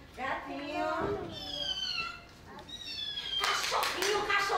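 Meowing cat calls in a children's stage play, a series of rising and falling mews heard close alongside voices talking.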